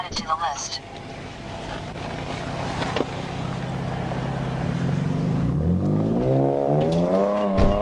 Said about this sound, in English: I think this is a V6 Camaro on this one. Listen to it when it goes.